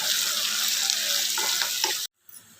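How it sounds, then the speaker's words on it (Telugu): Sliced onions and curry leaves with turmeric frying in oil in a pan for a bitter gourd stir-fry, a close, steady sizzle that cuts off abruptly near the end, followed by a faint clatter. "ఆనియన్స్ ఇలా వేగాలండి."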